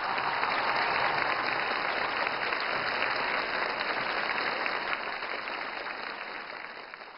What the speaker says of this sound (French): je vais vous demander d'applaudir bien fort